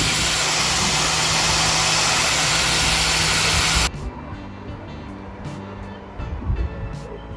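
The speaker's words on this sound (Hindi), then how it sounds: "देखो ये ऑरेंज वाला पेड़ कितना रफ घूम रहा है।" An angle grinder fitted with an orange polishing pad spins at about 11,000 RPM, giving a loud, steady high-speed whine for roughly four seconds before cutting off abruptly, followed by quieter handling noises.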